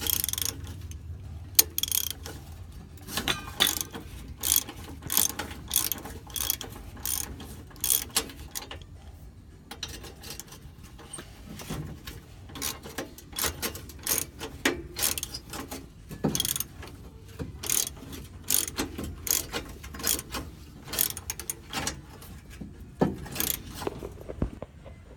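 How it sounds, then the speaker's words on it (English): A hand ratchet works loose nuts on a U-bolt clamp during a 1970 Dodge Dart restoration, giving quick bursts of sharp metallic clicks in uneven rhythmic runs, close and fairly quiet. "let's see if I can try to get these off the rest of the way with a ratchet."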